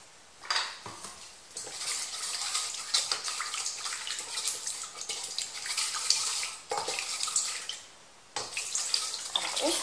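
Water poured into a bowl and stirred with fresh yeast and sugar, close splashing and clinking in several bursts separated by brief pauses.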